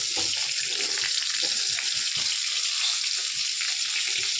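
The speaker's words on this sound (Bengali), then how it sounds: "কম তেল দিয়ে রান্না করা হচ্ছে, একটু ভালো করে ফ্রাই করা হচ্ছে" Rohu fish pieces frying in a small amount of oil, giving a steady, close, continuous sizzle and hiss with faint crackles throughout, no talking.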